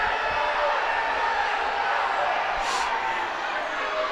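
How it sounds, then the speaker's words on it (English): Crowd noise at a women's football match, a UEFA Women's Champions League qualifier between Wrexham AFC Women and FC Pyunik, as a steady broad roar of spectators throughout with a brief brighter swell partway through. "the crowd are making good noise here"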